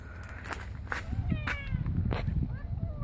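A cat meows several times nearby in short, wavering cries, mixed with rustling and light shuffling movement.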